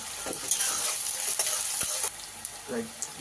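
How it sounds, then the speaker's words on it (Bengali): Chopped garlic, ginger and onion fry in hot oil with cumin, bay leaf and dried chilli for a tempering, giving a steady close sizzle with a few stirring knocks, no talking. "রসুন, আদা ভালো করে ফোড়নে দিচ্ছি"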